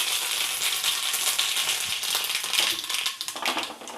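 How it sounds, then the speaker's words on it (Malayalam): Mustard seeds sizzle and crackle in hot oil in a pan, a dense bright hiss with scattered pops that stays loud and close throughout, no voices. "അപ്പോൾ നമ്മുടെ ചട്ടി ചൂടായിട്ടുണ്ട്, എണ്ണ ചൂടായിട്ടുണ്ട്. അതിലേക്ക് നമുക്ക് കുറച്ച് കടുക് ഇട്ട് കൊടുക്കാം."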